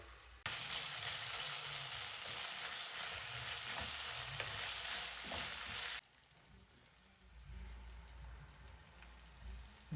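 Mutton pieces frying and being stirred in a pan over one flame for an Africa-style mutton varuval, a loud dense sizzle like heavy rain that cuts off abruptly after about six seconds, leaving a faint low background hiss.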